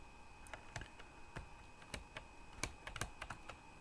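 Computer keys pressed repeatedly while playing the driving game Spy Hunter, a steady run of sharp, close plastic clicks at an uneven rhythm, some in quick bursts, with no talk.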